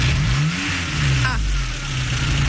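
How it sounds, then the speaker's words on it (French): A car engine starting up and revving, a low rumble climbing in pitch then settling into a steady idle, close and loud under a voice. "J'allume ma voiture."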